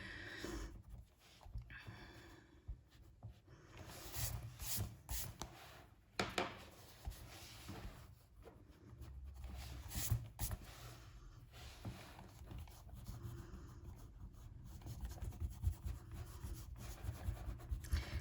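An eraser rubs pencil shapes off drawing paper in faint, close, irregular scrubbing strokes that come in short bursts over a long quiet stretch, with no talking.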